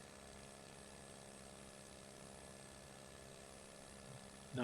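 Klemm 25 vintage propeller plane engine in Microsoft Flight Simulator 2024, a steady droning hum with a low throb holding evenly throughout, then swelling louder in the final half second.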